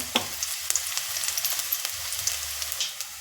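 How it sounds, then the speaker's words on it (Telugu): Chopped onion pieces sizzle steadily in a pan for egg curry, a soft continuous frying hiss with occasional sharper crackles and pops, close by and with no talking. "ఉల్లిపాయ మొక్కలు ఎలాగ వేగినాయండి"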